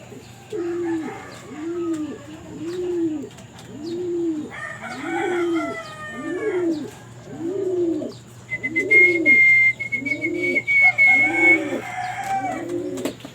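Young pigeons leave their loft, one bird cooing in a steady, regular series of low calls close by, with some chirping, wing and higher squeaky calls joining partway through; no speech.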